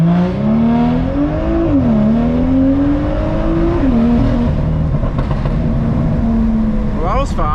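A straight-piped BMW M2 launching on a country road, its loud, close exhaust rising in pitch through the gears with turbo spool, and a brief whoosh near the end.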